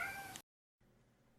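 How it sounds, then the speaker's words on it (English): A cat gives one short, faint meow that cuts off abruptly, followed by a brief silence and then soft low background noise. "Did you hear him go meow, meow?"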